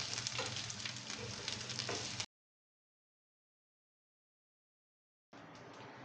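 Steamed bread-and-gram-flour rolls tossed in a hot mustard-seed tempering with asafoetida and curry leaves, giving a steady, close sizzle with light stirring that cuts out for a few seconds and then resumes just as strongly.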